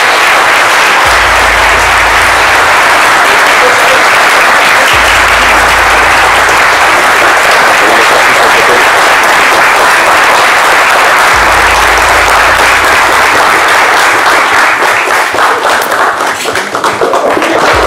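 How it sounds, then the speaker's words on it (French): Studio audience applause on a midday TV show, loud continuous clapping lasting throughout with occasional low thumps, thinning slightly toward the end. "Avec les applaudissements de notre cher public"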